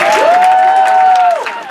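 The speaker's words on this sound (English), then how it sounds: "you guys give a big round of applause for Farce and Amber" Comedy club crowd at a standup show applauds and cheers loudly, with a long piercing whistle riding over the clapping before it tapers off.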